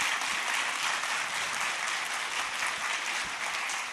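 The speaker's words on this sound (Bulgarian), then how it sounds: "Аплодисменти!" Steady, dense applause from a lecture audience welcoming a physics speaker, loud and sustained throughout with no voices over it.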